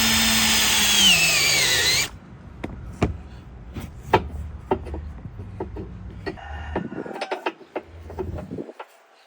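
A loud power drill whirs for about two seconds drilling a hole while fitting a tow hitch to a Jaecoo J6 EV, spinning down, followed by scattered clicks and knocks of handling tools nearby.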